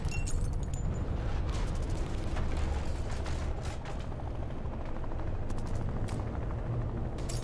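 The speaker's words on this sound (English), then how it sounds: "The sound of balloons popping is like gunfire, okay?" Balloons bursting like gunfire in the horror video game In Sound Mind: a scattered series of sharp cracks and clicks over a steady low mechanical rumble, with no talking.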